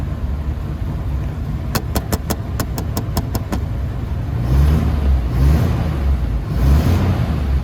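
A 1948 Chrysler Windsor convertible coupe engine idles with a steady low rumble, a quick train of sharp ticks or knocks, then swells into several throttle blips that rise and fall, close and loud.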